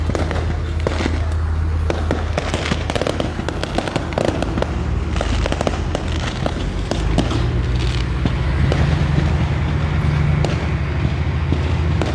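A truck loaded with fireworks and firecrackers explodes at the Laos–Vietnam border, a relentless barrage of sharp cracks and bangs going off in rapid irregular bursts for the whole stretch.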